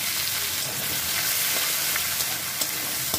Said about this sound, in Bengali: পেঁয়াজটাকে আমি একটু লাল করে ভেজে নেব।